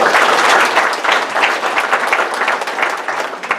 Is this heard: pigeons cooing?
no